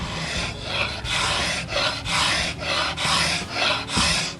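A hand scraper blade shaves a wood floor in regular rasping strokes, about eight or nine even passes close up with short pauses between them, no speech.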